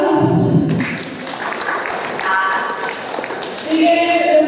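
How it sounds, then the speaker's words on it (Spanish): Audience applause at a Juan Colorado contest in 2014, a steady wash of clapping running through the clip with a voice briefly heard at the start and end. "Un aplauso"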